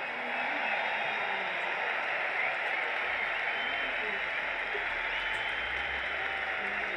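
A concert crowd applauds a string sextet at a show: a dense, steady wash of clapping that holds evenly loud for the full seven seconds with no voices over it.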